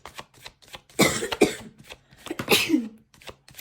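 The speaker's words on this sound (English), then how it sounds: "Cough and sneeze at the same time" A single explosive burst that blends a cough and a sneeze, followed by a second harsh expulsion, loud and close, with short breathy sounds around them.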